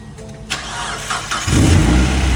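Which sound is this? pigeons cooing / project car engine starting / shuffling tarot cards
project car engine starting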